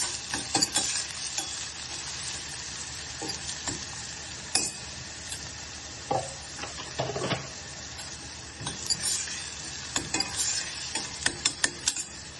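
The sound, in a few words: onions frying with salt in pan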